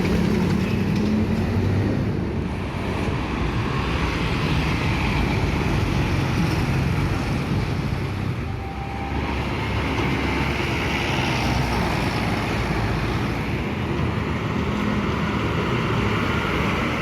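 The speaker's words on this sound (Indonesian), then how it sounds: "Di belakangnya ada bus kota" Buses roll into the Purabaya Bungurasih bus terminal in Surabaya in the morning, making a loud, continuous rumble of heavy engines and traffic with broad road noise and no pauses.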